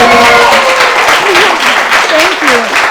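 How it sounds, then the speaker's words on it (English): Loud, dense applause from a workshop audience, close and continuous, with voices and cheering mixed into the clapping. "Give her another round of applause."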